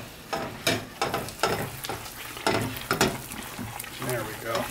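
A sugar and nutmeg mixture is stirred in a hot pan, giving a soft sizzle under rhythmic scraping strokes, with a person talking briefly over it.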